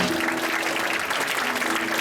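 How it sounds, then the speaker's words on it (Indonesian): Church congregation clapping in praise to God, a brief, steady burst of applause from many hands, with a faint tonal hum lingering underneath. "Tepuk tangan bagi Tuhan."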